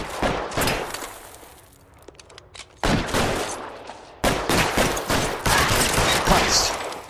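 Gunfire in the detective game L.A. Noire, bursts of close, loud shots in clusters separated by short lulls, rapid and overlapping like a shootout.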